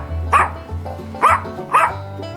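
A Labrador retriever, a hunting breed, gives three loud, evenly spaced barks close by, each a short sharp bow-wow over a low steady hum.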